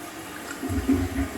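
Water slowly gurgles down a bathroom sink drain with no stopper, a soft low burbling that swells near the end, fairly close and heard alone.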